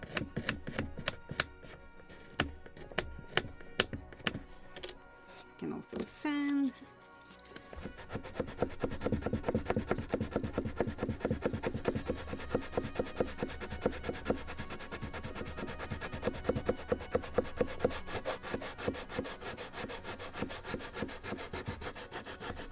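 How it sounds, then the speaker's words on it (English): Wooden stern post on a model of the 1776 gunboat Philadelphia being scraped by hand: steady, close rasping strokes in a dense rhythmic run, with a few sharp taps at the start and a brief pause before the scraping resumes. "So I didn't a good job here, so that's why I can scrape it now, make it perfect"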